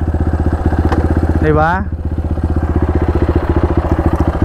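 A Honda XR 200 dual-sport motorcycle idling nearby, its engine putting out a steady, even rapid pulsing throb while a voice briefly speaks over it.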